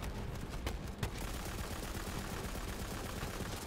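Dense, continuous weapon fire from the game Borderlands 3 fills the moment, a steady rattling barrage with a couple of sharper single shots early on.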